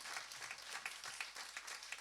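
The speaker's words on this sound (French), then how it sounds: "Merci à Thomas, vous pouvez l'applaudir" Audience applause at a French ciné-débat evening, a continuous dense patter of many hands clapping, fairly faint and steady for the whole stretch with no talk over it.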